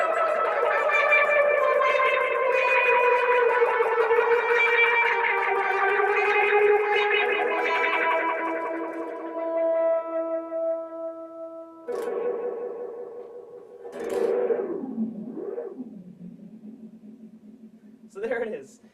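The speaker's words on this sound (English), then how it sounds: "There's the that bubbly eat guitar sound effect for all those people who have asked about it." An electric guitar run through two distortions and a wah pedal produces a sustained, bubbly, warbling tone with heavy effects, followed by several sweeping, gurgling wah-swept notes that swell and fade.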